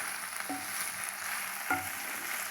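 Okra (ladies fingers) fries in a pan with a soft, steady sizzle, and two light stirring clicks cut through the hiss.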